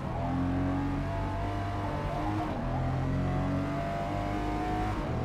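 A race car engine in the Forza Motorsport video game drones loudly and steadily along a long straight, holding a high sustained tone that climbs slightly as it accelerates, with no voices.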